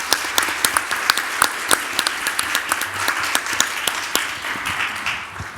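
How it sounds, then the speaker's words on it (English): Applause from an audience at an annual meeting, a steady dense patter of many hands with a few sharper claps standing out, moderately loud and sustained throughout with no talking over it. "can we give them a round of applause?"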